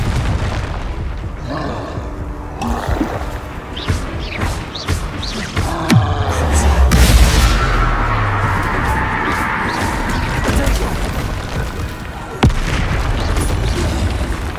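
Confringo and Bombarda spells blast in Hogwarts Legacy: loud booming explosions with crashing debris and rumbling, one heavy low blast midway, followed by sustained roaring and further impacts.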